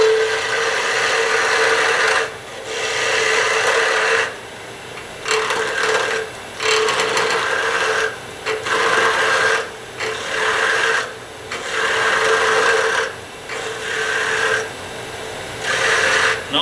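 A wood lathe spins a pen blank from a commercial kit while a tool cuts it round, giving a rasping, scraping whir in repeated bursts of a second or two separated by short pauses, close and fairly loud.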